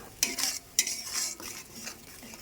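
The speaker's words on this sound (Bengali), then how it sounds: "এবার মশলাগুলো নেড়ে দিচ্ছি" Spices are stirred in a hot kadai, giving a few sharp scraping clinks of a utensil against the metal over a soft sizzle, close and fairly quiet with no talking.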